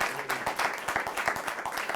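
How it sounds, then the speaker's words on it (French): A small studio audience applauds a music guest on a French-language talk show, giving a steady patter of hand claps with some rhythmic clapping underneath and faint voices mixed in. "Ça mérite une main d'applaudissement là-dessus"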